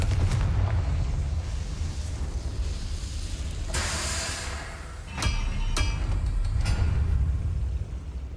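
Confringo blasting spell explosions in Hogwarts Legacy, a heavy continuous rumble with several sharp booming bursts around the middle, loud and close.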